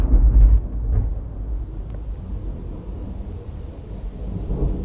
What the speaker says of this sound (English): It's setting car alarms off, the thunder.